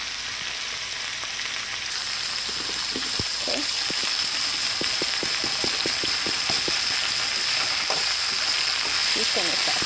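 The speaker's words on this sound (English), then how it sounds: "Just going to saute that around a bit." Chicken stir fry with garlic sizzles steadily in a hot pan, close and continuous, with scattered clicks and scrapes of stirring.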